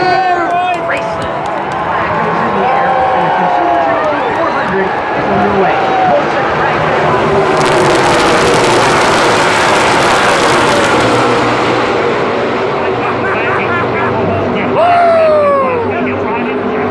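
NASCAR stock cars roaring past at full speed on the opening lap, loud engine drone with doppler sweeps as cars pass, a burst of noise in the middle, and a race commentator talking throughout.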